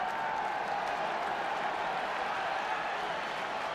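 A large football crowd of around 29,000 at Upton Park, West Ham's ground, keeps up a steady, broad roar and murmur throughout, dense and continuous with no single voice standing out.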